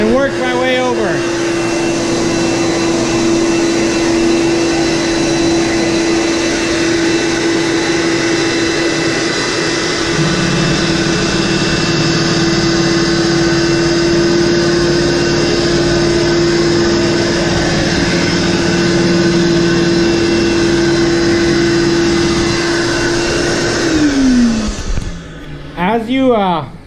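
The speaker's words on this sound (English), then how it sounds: "Now we're just going to take the machine, go over the carpet one time." A Rug Doctor carpet extractor runs steadily over carpet with a loud, constant motor whine and suction roar that holds for nearly the whole stretch, then winds down sharply near the end.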